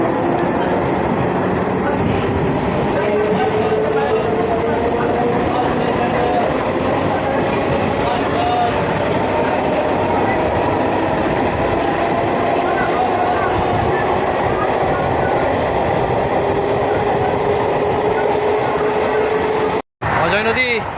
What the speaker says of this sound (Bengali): ট্রেন সেই রামপুরহাট থেকে 4 মিনিট লেটে খুলেছে, আর সেই 4 মিনিট লেটেই আমাদের ট্রেন যাচ্ছে